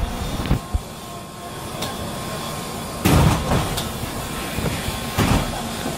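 A train's rumble in Hiroshima, Japan runs throughout, broken by a few sharp clunks and a louder surge of rattling mechanical noise.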